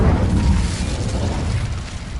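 Incendio fire spell blast in the video game Hogwarts Legacy on PS4, a loud, deep whooshing boom that roars and slowly fades over about two seconds, heard alone.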